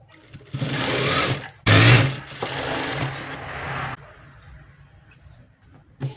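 A sewing machine stitches a blouse in two close bursts of fast, loud mechanical whirring, then falls to quieter handling sounds.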